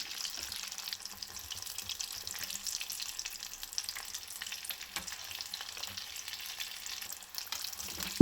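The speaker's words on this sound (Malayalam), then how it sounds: "തിരിച്ചും മറിച്ചും ഇട്ട് നല്ലതുപോലെ തന്നെ ഒന്ന് ഫ്രൈ ചെയ്തെടുക്കാം" Aloo puff patties deep-frying in hot oil give off a soft, continuous crackling sizzle, fairly faint and steady with small pops scattered throughout.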